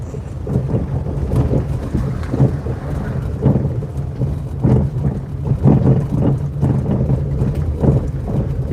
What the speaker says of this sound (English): Kind of crazy how much it's been raining lately.